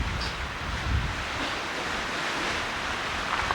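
Steady broadband wind roar at the Grand Canyon buffeting the microphone, constant and fairly loud throughout with no voices.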